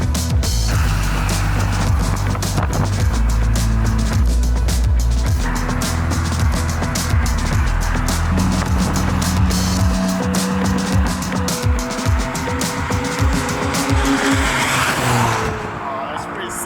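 McLaren race car lapping the Navarra circuit: a continuous, loud engine roar that rises and falls through gear changes and corners, heard from inside the car, with a person speaking over it.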